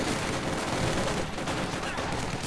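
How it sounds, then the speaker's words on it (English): Rapid bursts of Sturmgewehr assault rifle fire in the Company of Heroes 2 strategy game, dense crackling volleys overlapping across the whole stretch with a busy battle din beneath. "Panzer's quickly shifting back to try and deal with this with their Sturmgewehrs"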